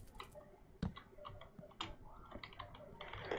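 Loud clicking keys on a new computer keyboard, a run of sharp irregular taps and clacks at close range with no talk over them.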